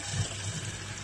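Water being poured into a bowl for warming a sweet cottage cheese dessert, a brief close gush of liquid with a low burbling fill.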